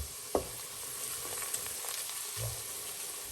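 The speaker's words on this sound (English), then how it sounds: "burn off these 2 ingredients into the oil" Turmeric and garlic frying in hot oil for a curry aubergine dish, a steady soft sizzle running throughout with a few stirring scrapes and light knocks near the pan.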